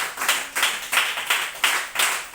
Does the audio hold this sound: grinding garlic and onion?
no